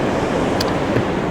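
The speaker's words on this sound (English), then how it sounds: "just the sound of the ocean" Ocean surf washes steadily in a continuous close roar mixed with wind buffeting, with a brief sharper splash partway through.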